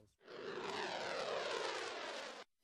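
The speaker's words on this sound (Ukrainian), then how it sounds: "Це літак Boeing AE-18 Growler," A Boeing EA-18 Growler military jet passes overhead with a steady, broad roar that swells in quickly, holds for about two seconds and then drops away sharply, with no voices.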